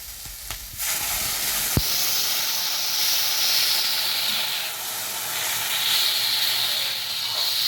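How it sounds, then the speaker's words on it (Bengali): Water poured onto fried vegetables in a hot pan for Bengali shukto, a sudden clatter and then a loud, rushing steam hiss that swells and fades in waves, close and without talk. "এরপরে এই সময় আমরা জল দিয়ে দেবো।"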